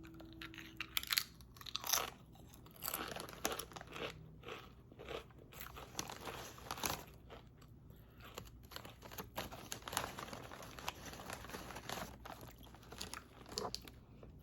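Pizza-flavored and Cool Ranch Doritos from a Stranger Things edition being eaten: irregular, close, crisp crunches and chewing over about fifteen seconds, fairly soft overall.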